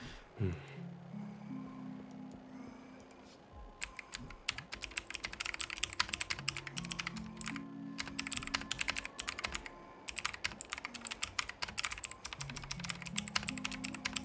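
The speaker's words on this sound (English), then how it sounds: "it's like a mechanical keyboard, and it just makes a nice click clack sound" Fast, steady clicking from a mechanical keyboard, with bright click-clack keystrokes in dense bursts and brief pauses between them. The typing is close and fairly quiet over a soft background of music.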